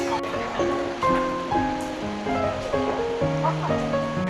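A mountain valley stream in Muju flows in the rain, a steady broad rushing of water heard throughout under a voice talking.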